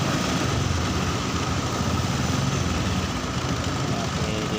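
Honda Supra X 125 motorcycle engine with a carburetor that floods and leaks fuel, running steadily close by, a dense continuous drone with little change in pitch and no talk.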